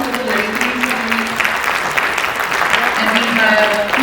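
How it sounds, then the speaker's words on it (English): Audience applause for women being introduced at a talk on picky eaters and nutrition for mothers, a steady dense round of clapping held at an even level throughout, with some voices mixed in. "Could we have a round of applause for the ladies?"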